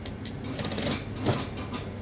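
A sewing machine stitching fabric along an unpicked seam line, running in a steady close mechanical whir with faint rhythmic ticking and a slight bump partway through, with no voices.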